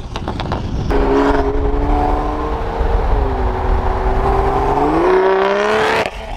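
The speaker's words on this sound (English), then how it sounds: "The exhaust is extra loud today." A loud Toyota Supra widebody straight-pipe exhaust drones and rises as the engine accelerates, popping with harsh rasping tones close by, then cuts off near the end.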